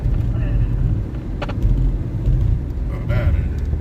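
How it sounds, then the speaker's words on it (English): Car engine idling steadily with a low continuous rumble, close and fairly loud, while people talk over it. "The engine sounds good."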